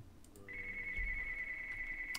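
A phone rings during a Minecraft survival session, a steady electronic tone that is fairly faint and sustained for most of the short stretch, with no speech over it.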